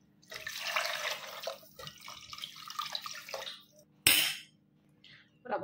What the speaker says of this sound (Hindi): ऐड करेंगे पानी,